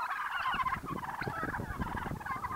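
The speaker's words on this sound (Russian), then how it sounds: "Индюки ведут себя абсолютно по-весеннему, то есть у них такие начинаются тут спарринги," Turkeys gobble repeatedly while sparring in a village yard in winter, loud rapid burbling calls overlapping one another at close range with no talking.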